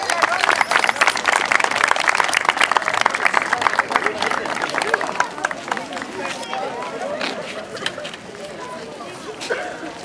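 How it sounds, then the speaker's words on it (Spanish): Parade crowd applauding a municipal ballet troupe at a civic parade in San Isidro, dense clapping loud at first then thinning, mixed with crowd chatter and cheers outdoors. "¡Fuerte el aplauso!"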